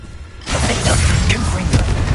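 Confringo blasting spell from the Hogwarts Legacy video game erupts after a brief quiet, a loud broadband fiery blast that roars on steadily with crackling bursts layered through it.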